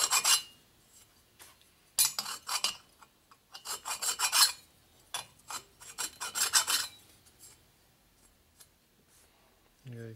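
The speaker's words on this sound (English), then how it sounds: "so we use my nice dull file. Let's go ahead and hit it on both surfaces here" A dull file rasps across the machined surfaces of a Harley M8 cylinder head in bursts of quick strokes, close and loud, with short pauses between passes and a brief low hum near the end.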